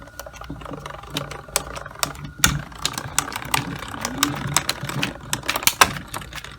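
A die-cutting machine popping as it cuts paper dies for a craft project, giving irregular sharp clicks and pops over a steady mechanical hum, with no talk.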